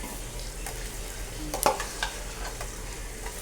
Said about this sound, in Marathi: मी तेलात चटणी भाजून घेतली त्याच्यात पण मसाला सगळा भाजून घेणार आहे